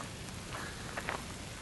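Cold rain falls steadily outdoors at a historic fort, a faint, even hiss of drops with a few brief, slightly sharper splashes.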